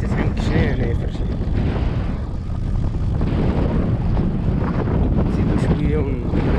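Strong wind blowing over a sandy desert road in Mauritania, a loud, continuous roar buffeting the microphone throughout, with a person speaking intermittently over it.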